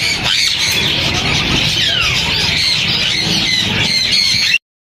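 Dense, loud squawking and squealing from many caged birds at an outdoor Sunday bird market in Bahawalpur, continuous and close throughout.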